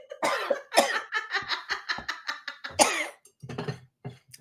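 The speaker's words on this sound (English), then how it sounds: "got a little cough here." A person coughs in a series of short, harsh bursts close by, with throat-clearing rasps in between and a few quieter coughs near the end.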